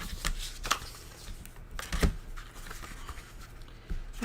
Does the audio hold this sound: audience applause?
no